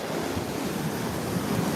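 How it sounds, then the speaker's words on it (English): Atlantic Ocean surf at Juno Beach at sunset, a steady broadband wash of breaking waves with wind rumble on the microphone, constant and fairly loud with no voices. "This is the Atlantic Ocean."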